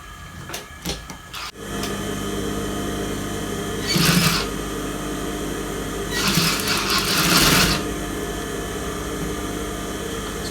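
An electric sewing machine stitching piping onto fabric runs in two steady whirring bursts, the second longer, after some faint clicks and handling noise, with no talk.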